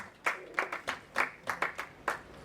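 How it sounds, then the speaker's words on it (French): A church congregation claps hands for Jesus in about eight distinct, fairly even claps, moderately quiet with no voices over them. "Clap your hands for Jesus."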